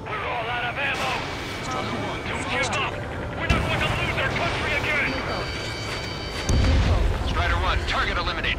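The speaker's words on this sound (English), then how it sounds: "They already are firing on us." Gunfire and booming artillery-like blasts in the Ace Combat 7 flight combat game with a MiG-29A, rumbling continuously beneath overlapping radio voices talking throughout, with a heavier low explosion near the end.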